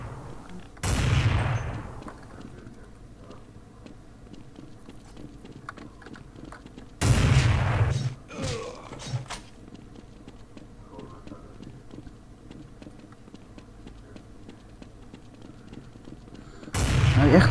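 Gunfire from the Counter-Strike video game comes in three short, loud bursts spaced several seconds apart, with someone talking quietly in the gaps between them.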